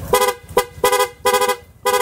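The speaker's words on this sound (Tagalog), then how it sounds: "Sa busina niya, naka-setup ng rapid horn. So, ito yung rapid horn niya." A motorcycle's rapid horn on a Motorstar Easyride 150 FI honks in rapid, choppy bursts, four or five clipped toots in an uneven rhythm, close and alone.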